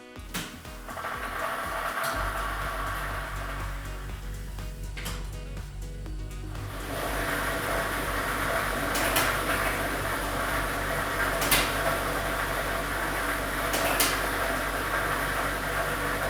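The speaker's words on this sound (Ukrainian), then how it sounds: "І ми вмикаємо лототрон" A lottery draw machine with a numbered ball set starts up for a televised Ukrainian lotto draw, giving a steady loud whirring rumble with rattling, clattering balls that runs throughout without pause.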